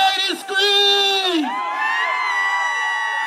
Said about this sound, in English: And the ladies, can I hear the ladies scream?